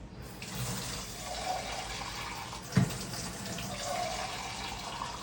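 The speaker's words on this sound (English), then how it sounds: "You can add as much water as you want." Tap water runs steadily into a cooking pot for beans, a continuous broadband rush from a faucet with a brief clunk near the middle and no talking.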